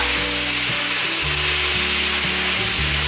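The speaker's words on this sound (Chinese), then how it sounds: "再继续翻炒" Luffa and plant-based scrambled egg being stir-fried in a wok with no added water, a steady dense sizzle overlaid by a low droning hum and repeated scraping strokes, close and continuous with no talk.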